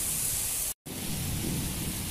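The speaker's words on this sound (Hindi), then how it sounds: "कितनी तेज़ बारिश हो रही है और कितनी तेज़ बिजली गरज रही है" Heavy downpour in Makkah roars as a dense, steady wash of rain with a low thundery rumble underneath, broken by one very brief dropout.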